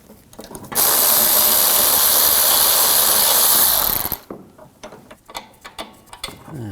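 A ratchet fitted with a 16mm socket loosens a control arm bolt on a 2006-2009 Audi S4, a loud dense buzzing run of about three seconds followed by scattered metallic clinks and handling noises.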